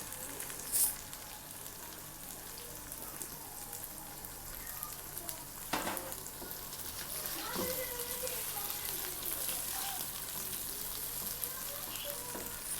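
Chicken pieces fry in a pan with a splash of water over a medium-low flame, a steady faint sizzle and hiss with a few clinks and scrapes, no clear talk over it.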